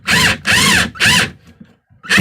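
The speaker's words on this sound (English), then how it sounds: "These are self-tapping screws, so as soon as they hit that metal, they had to drill a little hole before they would go in." A power drill drives self-tapping screws through wood into metal framing during an RV kitchen table remodel: three loud whining bursts of the motor with short pauses, a quiet gap, then another burst, close up.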